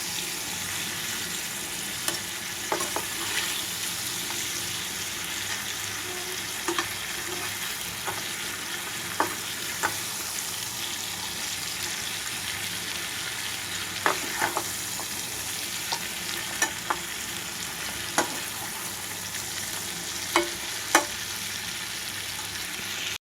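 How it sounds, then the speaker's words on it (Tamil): Boiled elephant foot yam being stir-fried in a pan, a steady close sizzle with scattered scrapes and stirring clicks throughout, no voices. "வேக வச்ச கருணக்கிழங்கை எடுத்து போட்டு நல்லா இப்படி மிக்ஸ் பண்ணிக்கலாம்"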